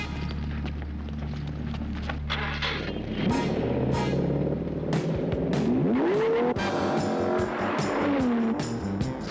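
A hot buggy in a car chase roars at high revs, engines whining and shifting pitch while tires squeal and skid, loud and continuous with several passing swells and no speech.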